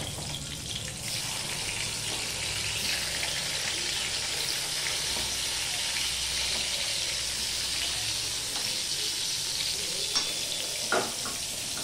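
Brinjal slices fry in hot oil in a pan, giving a steady, dense sizzle that fills the whole stretch. A few light clinks and stirring noises come through, close up.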